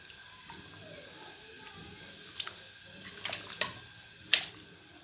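Water is poured into a cooking pot while chicken pulao is prepared, about five glasses for three of rice; a soft splashing trickle is heard, with a few brighter splashes and drips near the end, fairly quiet and with no talking.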